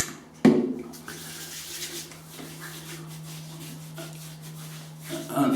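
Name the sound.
beard oil being rubbed into a beard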